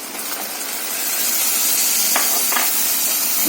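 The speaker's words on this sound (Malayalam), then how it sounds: "നമുക്കിനി അതിലേക്ക് അരച്ച് വെച്ചിരിക്കുന്ന തക്കാളി പേസ്റ്റ് കൂടെ ചേർത്ത് കൊടുക്കാം" Onions and tomato paste fry in a pan for a prawn roast, a steady close sizzle and hiss that swells slightly, with a few scraping stir sounds near the end.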